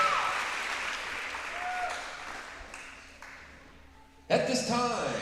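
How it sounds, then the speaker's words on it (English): Applause from a crowd at a high school varsity volleyball game in a gym, honoring a coach's birthday, steady clapping that fades a bit, then a louder burst near the end with an announcer's voice over it. "a big round of applause for our birthday girl"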